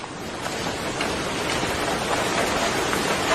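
Light rain falling steadily on a city street, a dense, even hiss of drops and splashing water that holds constant throughout with no voices.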